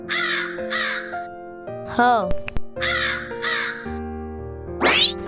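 Harsh crow caws come in repeated pairs of calls close by, mixed with talking, a brief tonal sound effect and a rising whistle-like sweep near the end.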